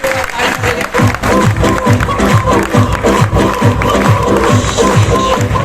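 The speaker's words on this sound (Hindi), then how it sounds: "हाँ तालियां बजा सकते हैं सर" An audience claps in rhythmic unison at a business motivational event, loud repeated beats forming a steady pattern throughout, with crowd noise mixed in.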